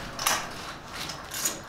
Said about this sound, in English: so I'm going to be ratcheting that together